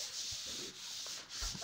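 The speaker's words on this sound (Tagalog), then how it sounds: "Ato siyang gamitan og pole sander." A pole sander scrapes across drywall in short rubbing strokes, a soft gritty swish rising and falling three or four times, close and quiet, with no talking.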